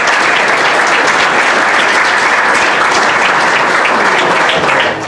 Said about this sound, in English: Let's give them one more round of applause for a job well done.